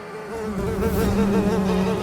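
Bees buzz loudly and steadily up close, a dense droning hum with shifting pitch near a high hive.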